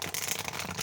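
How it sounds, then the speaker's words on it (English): Brief papery riffle of tarot cards being shuffled by hand, a close, soft flurry of rubbing card edges lasting under a second. "I will shuffle these also"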